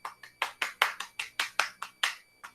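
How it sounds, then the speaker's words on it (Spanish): One person clapping for the audience at the end of a talk on experimental archaeology, about a dozen sharp, evenly spaced claps, close and clear, with no voices over them. "ahora va mi aplauso para todos vosotros"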